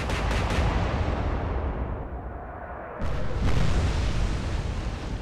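Heavy battleship guns in Atlantic Fleet pounding at the Duke of York, a continuous thunderous rumble of salvos with a fresh loud blast about midway that swells and rolls on.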